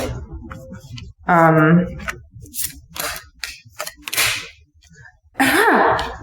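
Tarot cards shuffled and drawn by hand, a quick riffling burst followed by soft sticky slaps and taps, with a voice speaking intermittently.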